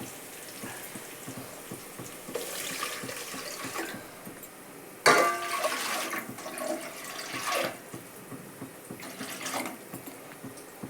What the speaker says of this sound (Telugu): ఇప్పుడు త్రీ అండ్ హాఫ్ వాటర్ని ఇందులోకి యాడ్ చేసుకున్నాము